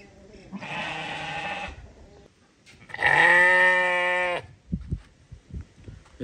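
Afghan rams and sheep bleat loudly and close by, with two long sustained calls separated by a short pause, followed by shorter thumps and brief animal noises.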